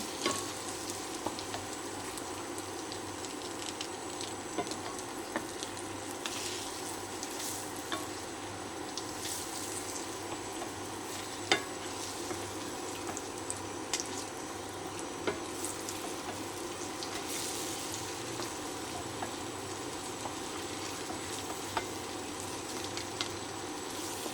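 Japanese sweet potato stuffed with cheese deep-frying in hot oil, a steady close sizzle and bubbling crackle running unbroken throughout with small pops, no voices.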